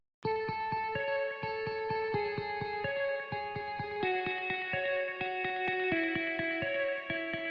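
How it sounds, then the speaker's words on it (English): A plucked guitar melody from a progressive house track built in FL Studio Mobile, steady repeated notes in a bright, echoing line with chorus and reverb, played alone without talk. "I have also added this guitar melody."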